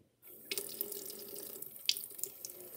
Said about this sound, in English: we gotta add a little water